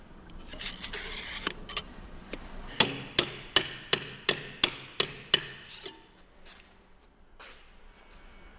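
Anchors for cavity wall insulation are fixed into drilled holes with a run of about a dozen sharp, evenly spaced hammer-like strikes that grow louder, then stop and leave a quiet tail.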